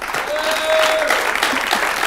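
Studio audience applause for a guest on an Arabic-language television talk show, a steady dense patter of clapping filling the whole moment with no voices over it.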